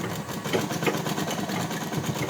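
A sewing machine runs steadily while stitching a baby girl's dress, a continuous mid-level mechanical whir with faint rhythmic ticking throughout and no voices.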